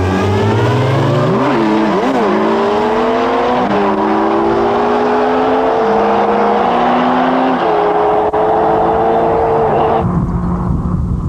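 A Suzuki Hayabusa of 1300 cc and a Kawasaki ZZ-R1200 of 1200 cc on a top speed run, engines screaming loud and steady as they accelerate at around 280, pitch rising through gear changes before fading.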